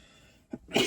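A single sharp sneeze bursts out loudly at the end, after a short muffled sound, in a quiet indoor room during a casual football chat.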